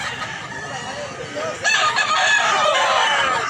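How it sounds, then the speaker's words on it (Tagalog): Several chickens cluck and squawk nearby, and a rooster crows partway through over a busy, noisy background. "Manok"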